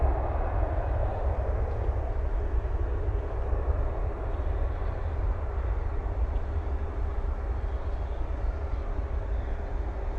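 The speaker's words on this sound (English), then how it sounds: "Spoilers up, reversers out. On that E175." An Embraer E175 landing at night at Dallas/Fort Worth airport with spoilers up and thrust reversers deployed, heard as a steady, distant low jet roar that holds evenly from start to finish.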